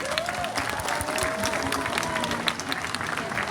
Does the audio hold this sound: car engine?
no